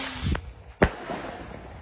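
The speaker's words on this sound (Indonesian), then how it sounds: "Ini Roman candle juga guys, bledesnya guys, bunganya" Circo Blitz Roman candle firework shooting outdoors at night during Ramadan, with a soft launch pop followed by one sharp loud bang, then a fading crackling tail.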